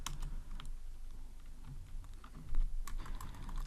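Typing on a computer keyboard: steady, quick, light key clicks in irregular runs, close but soft, with a couple of firmer keystrokes near the end.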